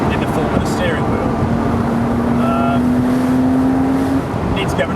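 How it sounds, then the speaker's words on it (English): A Porsche Boxster S or BMW Z4 sports car drones with a loud engine and exhaust from a noisy back box, a steady rising tone held under continuous talk. "Your car is loud"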